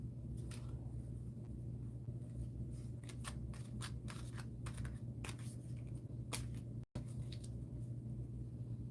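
A deck of playing cards being shuffled in a quiet basement, crisp riffling bursts repeating through the clip over a steady low hum, close and fairly soft.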